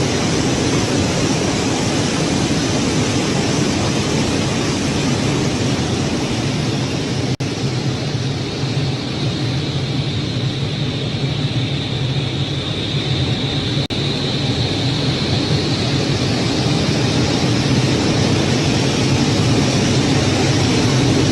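An airplane cabin fills with a steady, unbroken roar of broadband engine and air noise that holds at an even level for about twenty seconds.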